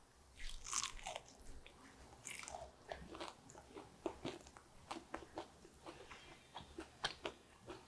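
Crisp, crunchy bites and chewing of fried cabbage made with tofu, repeated close to the mic in an irregular rhythm with no talking.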